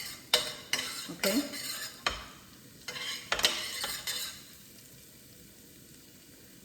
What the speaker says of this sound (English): you're going to stir fry